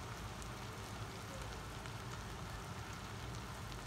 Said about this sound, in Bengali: তেলটা গরম হয়ে গেছে। এখন আমি পেঁয়াজ কিছু দিয়ে দেব